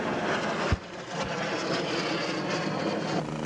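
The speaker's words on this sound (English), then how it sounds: "Combat aircraft of the Nigerian Air Force in a display of tactical maneuvers and delivery of firepower simulating air interdiction missions in the theater of war" Nigerian Air Force combat aircraft roar steadily overhead during an air power display in Makurdi, with tactical maneuvers. A continuous broad engine rush carries a brief sharp thump near the start.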